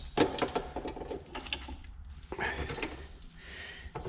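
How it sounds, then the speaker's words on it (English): Clamps on a drill press table are loosened and the table is shifted, giving close, loud metallic ratcheting clicks, clanks and grinding scrapes in uneven bursts. "I'm going to loosen up the back of my drill press and move the table around a little bit"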